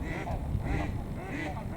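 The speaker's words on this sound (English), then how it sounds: "I'm not sure if they're Canada geese or what they call grey-lag geese" Canada or greylag geese calling over a lake with small islands, a few repeated honking calls at moderate distance over steady outdoor background noise.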